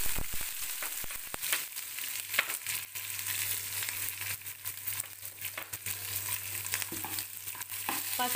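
Onions and curry leaves frying in a pan for a cluster beans stir-fry, a quiet steady sizzle with scattered crackles and occasional stirring scrapes, no talk.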